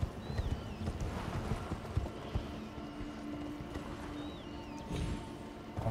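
A horse's hooves clip-clop at a steady trot in the video game Elden Ring, loud and continuous over a low ambient game background.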